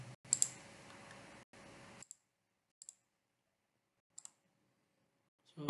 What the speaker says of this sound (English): So I am clicking here